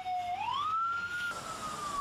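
A fire engine siren wails with a single rising, sustained tone as the Kabupaten Tangerang fire truck arrives at a burning pickup car fire, moderately distant over a low background rumble.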